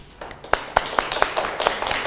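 A small class claps in a classroom, a short run of sharp, fairly quiet claps that starts scattered and builds into a thin ragged patter over a couple of seconds.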